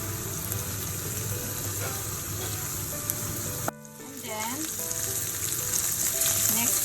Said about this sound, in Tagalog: Let's saute our garlic